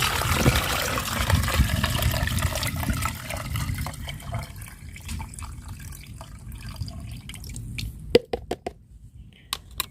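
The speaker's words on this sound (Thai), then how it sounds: "ราะฉะนั้นนะคะเรา กรองเอาแต่น้ำเลยค่ะ" Liquid pesticide mixture being strained through a filter, a continuous close watery pouring and trickling that thins out into scattered drips and small splashes toward the end, with no voices.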